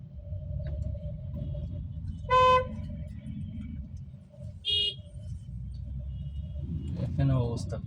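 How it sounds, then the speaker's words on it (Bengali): Car horns honk in a traffic jam on a road in Bangladesh, two distinct toots standing out over the steady rumble of traffic, with a rising engine noise near the end. "মোটামুটি একটা জ্যাম পড়ছে।"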